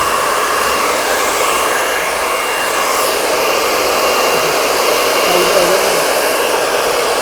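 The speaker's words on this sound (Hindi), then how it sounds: "मैं सिर्फ आपके बालों को ड्रायर से सुखा रहा हूँ" A hair dryer blows continuously while drying hair, a loud, steady close-up whoosh with no break or speech over it.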